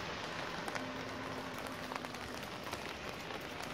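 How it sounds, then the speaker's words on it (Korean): Steady rain falls on a street lined with restaurants in Masan, Changwon, a dense even hiss with scattered droplet taps close by, no talking. "지금 비가 와가지고 야외 촬영은 좀 힘들어요."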